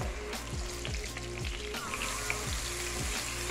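Chicken kofta balls fry with garlic-ginger paste in a hot pan, giving a loud, continuous sizzle close up, with a regular scraping rhythm from stirring repeating every half second or so, and no voices.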